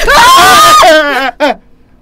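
A woman lets out a long, loud scream of fright while playing a Roblox horror game, close to the mic, breaking off into two shorter startled yelps before falling quiet.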